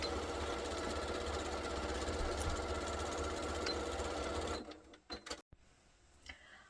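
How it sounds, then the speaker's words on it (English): A sewing machine runs a 1/4 inch seam allowance straight across a tote bag, a steady, fast, close-up whir for about four and a half seconds before it stops, leaving a few faint handling clicks. "I'm now going to take it over the sewing machine and use a 1/4 inch seam allowance"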